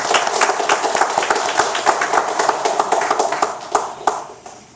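Audience clapping at a church gathering to congratulate a student who received an award, a dense run of hand claps across the whole stretch that thins and fades toward the end.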